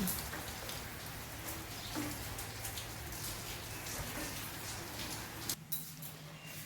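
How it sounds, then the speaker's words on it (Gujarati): Steady first-of-the-season rain patters down across the whole stretch, a dense even hiss of drops with a low constant hum beneath and no voices. "જો વરસાદ કેટલો સરસ મજાનો પડી રહ્યો છે"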